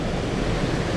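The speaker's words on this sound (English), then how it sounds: "Lovely flow in the brook at the moment, the Porter Brook." Porter Brook flows steadily through a park in autumn, a dense, close rush of running water that fills the whole second evenly without voices.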